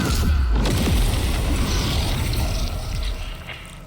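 A Fireball spell explodes and smashes furniture in Baldur's Gate 3, a loud, dense booming blast with rumbling low end and crackling debris that holds steady before slowly fading.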